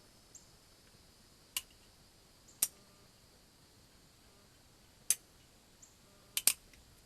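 A Traditions 1873 black powder revolver misfiring, its hammer giving a handful of sharp, isolated metallic clicks spaced a second or more apart against a quiet background.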